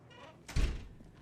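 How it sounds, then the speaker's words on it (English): In the video game Alan Wake 2, a door swings shut with a single muffled thump over a quiet ambient hum. "Let's close the doors."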